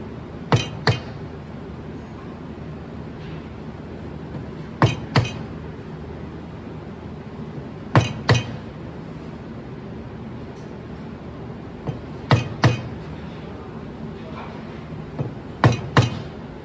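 Steel hand chisel struck with a hammer to cut timber for a hand-cut flush bolt recess, sharp double knocks in spaced pairs at a steady working pace, close and clear over a low room hum.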